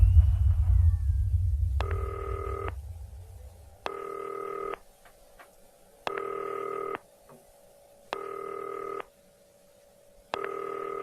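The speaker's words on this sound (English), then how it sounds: "Answer the damn phone." A telephone rings in the video game Not for Broadcast: five evenly spaced electronic ring bursts, each about a second long, sound alone after a low rumble fades out.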